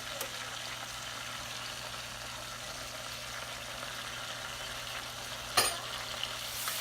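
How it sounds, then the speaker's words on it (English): Melted butter and jam being stirred in a pan give a soft, steady sizzle with faint stirring scrapes and a brief clatter near the end, close and quiet. "Give that a good stir there. Mix it in there."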